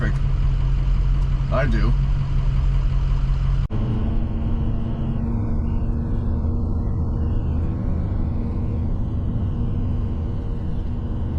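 A car engine idling in stopped traffic, giving a steady low rumble that runs throughout. A person speaks briefly over it near the start.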